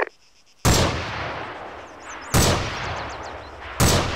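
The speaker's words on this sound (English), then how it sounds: "We're taking very accurate fire." Three loud, sharp gunshot cracks with long ringing tails in the military shooter Arma 3, spaced about 1.5 seconds apart, with faint chirping between them.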